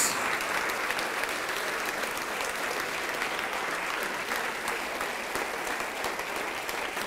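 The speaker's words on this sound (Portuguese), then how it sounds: "vamos aplaudir mais" Steady, dense applause from a church congregation fills the space evenly, a continuous wash of many hands clapping at moderate loudness with no break.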